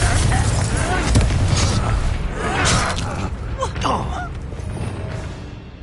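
A Confringo blasting curse from Hogwarts Legacy goes off in a duel, a burst of magical impact amid swirling game effects and a spoken spell incantation.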